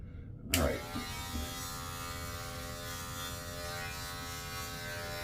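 An electric beard trimmer switches on with a click and then runs close by with a steady, even buzzing hum as it trims a beard, with no talk.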